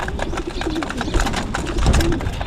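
Pigeons in a loft aviary cooing close by, low throaty coos repeating over a busy flutter and shuffle of many birds jostling to feed.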